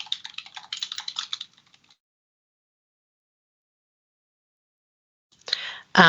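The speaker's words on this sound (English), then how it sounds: "So now I can actually type a headline." Bursts of quick clicking keystrokes on a computer keyboard as a headline is typed, a short flurry, then silence, then another brief burst at the end.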